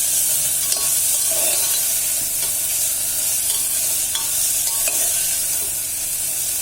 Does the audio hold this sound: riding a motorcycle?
no